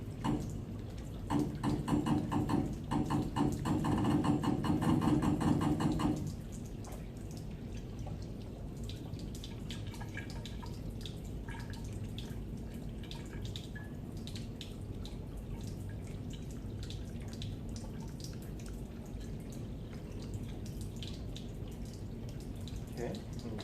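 Running deionized water splashes and trickles as a lab media bottle is rinsed, louder for the first few seconds, then a quieter stream with drips continues.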